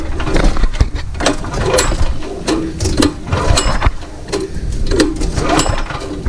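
A 9 hp Honda engine on a pressure washer being cranked over, giving a busy mechanical clatter of repeated churning strokes with a steady rhythmic chug, close and loud throughout, with no talking.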